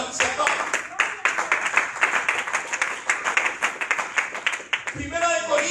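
A church congregation claps for the Lord in rhythmic, fairly close bursts of many hands, a loud pulsing beat that stops as a voice begins speaking at the end.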